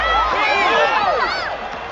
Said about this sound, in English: As the referee finishes the long count, the crowd stands up and applauds.